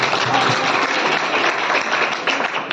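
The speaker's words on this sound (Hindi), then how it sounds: "यहाँ ताली बज रही थी, बाहर के बच्चे भी बजा रहे थे" Students clap steadily at a teacher's birthday celebration, a dense, continuous round of applause from a group that holds at an even level throughout.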